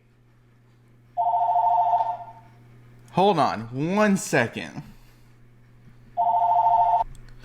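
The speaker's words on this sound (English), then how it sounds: "This is like the second video in a row where my phone's gone off." A mobile phone rings in two loud, steady bursts with a silent gap between them, and someone speaks briefly in that gap, all set against a low steady hum indoors.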